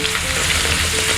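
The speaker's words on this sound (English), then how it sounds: "Now I'm going to fry the ginger for garnishing" Ginger fries over a medium flame in reused hot oil for a Penang Nyonya acar fish garnish, giving a loud, dense, continuous sizzle up close with no break in the hiss.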